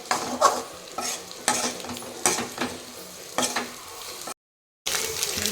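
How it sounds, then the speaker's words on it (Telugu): Mutton blood frying with pepper powder and garam masala, sizzling under a series of rhythmic stirring scrapes and spatula clinks on the pan, close, with a brief gap of silence near the end. "Pepper powder plus garam masala రెండింటిని మిక్స్ చేసి వేస్తున్నాము. ఫ్రై చూడండి ఎంత బాగా కనిపిస్తుందో."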